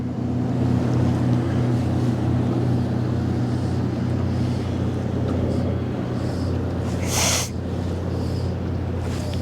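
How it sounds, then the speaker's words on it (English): Motorboat engines drone steadily over the water while boats pass on a busy fishing lake, a continuous low rumble throughout with a brief splash or hiss near the end. "Lots of boats up here today."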